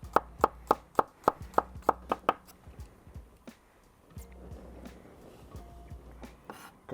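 Garlic sliced into thin slivers with a knife on a board, a quick run of about nine crisp, close, evenly spaced cuts followed by softer scattered taps and handling noise, with no talking.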